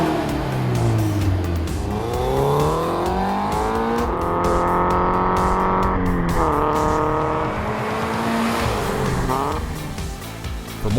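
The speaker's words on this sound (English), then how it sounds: "If you're after a bit more sound and headed down the forced induction route, our 3-inch stainless steel catback system" A Scion FR-S or Subaru BRZ with a 3-inch stainless steel catback exhaust revs up and down, a deep rising and falling growl that stays loud and close throughout, with a brief tire squeal.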